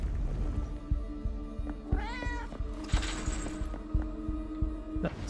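A small cat meowing in the video game Awaken Astral Blade, several rising and falling cries over a pulsing game soundtrack with a steady throbbing beat, heard clearly without any talk.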